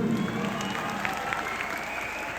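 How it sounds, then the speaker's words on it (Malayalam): A crowd at a live stage show during a music event breaks into steady applause, dense clapping that holds at a moderate level for the whole stretch while a few voices murmur underneath. "എല്ലാരും ഒരു വലിയ കയ്യടി കൊടുക്കുക."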